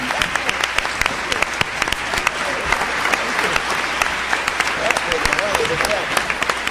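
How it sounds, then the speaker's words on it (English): Audience at a hip-hop symposium at Princeton applauds steadily, a dense field of individual hand claps at moderate distance, with some voices audible beneath. "please let's give another round of applause to the Hip Hop Arts and Life"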